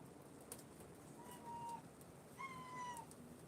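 Two faint, drawn-out cat meows, one after the other, over a soft background hiss.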